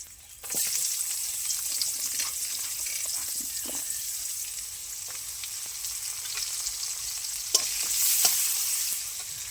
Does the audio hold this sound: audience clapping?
no